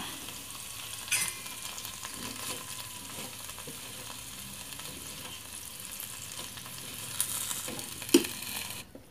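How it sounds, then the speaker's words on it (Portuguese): Soft, continuous sizzling of food frying in a pan, with occasional scraping and stirring clicks, no voices. "Tá fritando."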